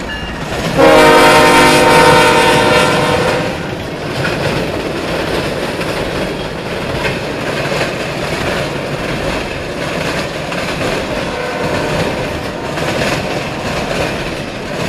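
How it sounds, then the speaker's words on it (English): A BNSF/CSX train sounds its horn loudly for a few seconds, then rumbles past with steady rolling wheel clatter that continues throughout. "we got a train coming"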